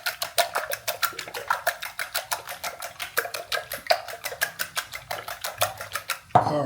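Eggs being whisked for a Spanish tortilla in a kitchen in Barcelona, a steady run of rapid clinks of utensil against bowl, close and fairly loud, ending in a heavier knock.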